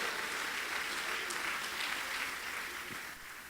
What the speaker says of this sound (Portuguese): Dê um aplauso a Jesus e use a sua boca para glorificá-lo enquanto você aplaude.